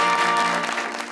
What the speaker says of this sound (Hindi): टीचर तालियां होनी चाहिए।